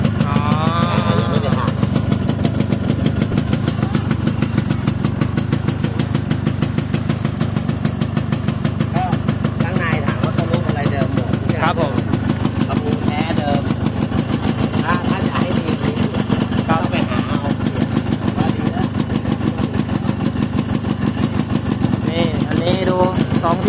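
A Yamaha RXS115 motorcycle engine idles steadily nearby with a deep, even rumble throughout, while someone talks over it now and then.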